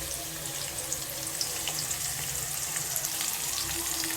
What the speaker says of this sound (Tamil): இந்த வெங்காயம் நல்லா வதங்கி வர்றதுக்காக